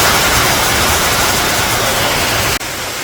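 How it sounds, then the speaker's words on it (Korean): Namhansan waterfall pours in a steady, dense roar that is loud and close, with a continuous broadband rush and a brief dip near the end. "아직 더운 9월이라 그런지 남한산 폭포가 더욱 시원스게 느껴지고 있습니다."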